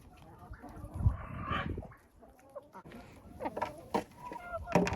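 Chickens in a coop give scattered clucks and short calls at close range, mixed with rustling and movement sounds.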